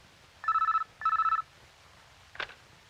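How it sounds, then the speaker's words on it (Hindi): A telephone bell rings in two clear bursts, each a quick trilling ring, then a short knock-like sound follows in an otherwise quiet indoor room. "सर, आपके लिए फोन।"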